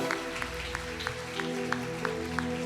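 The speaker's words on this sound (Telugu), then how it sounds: "గట్టిగా చప్పట్లు కొట్టాలి." A church congregation claps in steady, evenly spaced beats during a sermon, the rhythmic hand claps sitting over sustained instrumental music tones.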